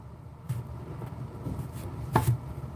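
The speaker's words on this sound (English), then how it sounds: "we are going to cut these carrots in matchsticks" A knife chops small carrots into matchsticks on a board: four sparse, crisp cuts spaced about half a second apart, the last one loudest, with no talking.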